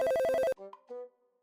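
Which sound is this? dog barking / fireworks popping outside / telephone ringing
telephone ringing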